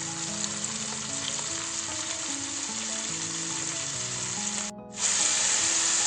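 Albanian-style liver frying in a pan, a steady close sizzle with scraping stir sounds, a brief dip near the end before the frying swells back louder.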